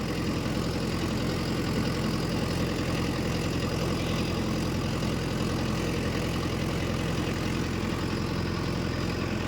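A Mahindra Yuvo Tech+ 585 50 hp tractor pulls a rotavator through a field under heavy load, making a steady, loud, low diesel drone with a continuous churning rumble and no pauses.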